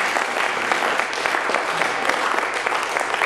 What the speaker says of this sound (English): a big round of applause would be.